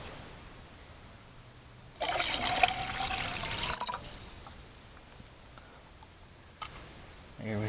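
Water from cooked chicken poured off through a strainer with a camp cook set, a loud splashing rush lasting about two seconds, then quiet with a few faint drips and clinks.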